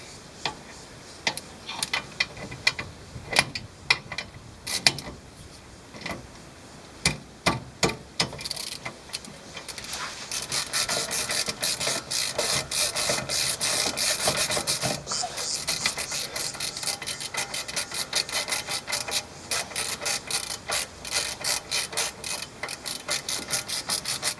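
A ratchet works loose the 14 mm rear caliper bolts on a 2006 Honda Accord Euro during a brake pad change. Sparse clicks come first, then a long dense run of rapid ratcheting ticks, close and fairly loud.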